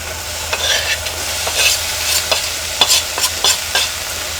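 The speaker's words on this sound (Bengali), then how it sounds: "এখন আমি ধুয়ে রাখা মিষ্টি কুমড়ার খোসা দিয়ে দেব তেলের মধ্যে" Washed sweet pumpkin peel frying in oil and being turned, giving a soft steady sizzle broken by several sharp spatula scrapes, heard up close with no talking.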